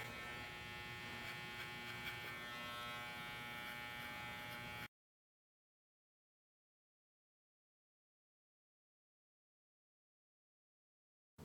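Wahl hair clippers fitted with a half attachment guide comb buzz steadily while cutting hair, a close, even electric hum lasting several seconds before cutting off into silence.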